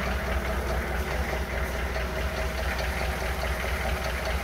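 A diesel engine with a newly installed injection pump runs at a steady idle in winter, a continuous low rumble with a faint knocking texture, close by and without speech.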